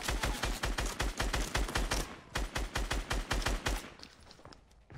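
Rapid bursts of shotgun fire from a Fisher shotgun in Fortnite, loud, close shots in quick rhythmic volleys that break off near the end.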